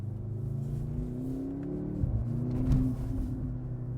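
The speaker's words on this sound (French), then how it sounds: "ça a l'air de faire le bruit d'un A45" A Mercedes A45 S four-cylinder engine drones steadily, then the revs dip and swell again, heard muffled and low from inside the car, with no talking.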